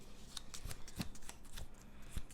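Cards from the Battlestar Galactica board game are shuffled close up on a table, a quick run of soft riffling flicks and taps, quiet and uneven, with no talking.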